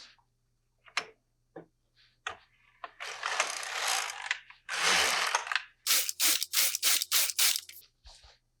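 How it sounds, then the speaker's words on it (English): Knitting machine carriage being slid across the work while casting on with waste yarn: scattered clicks, then several loud, sustained mechanical rasping sweeps and a quick series of rattling passes, close and with no talk. "just slide the carriage across your work."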